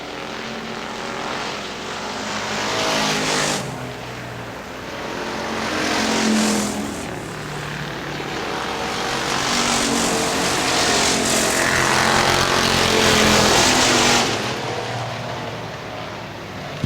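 Factory stock race cars battling at Hartford Speedway Park in Hartford, Michigan, their engines roaring loud and close as they swell past in waves, with no talking.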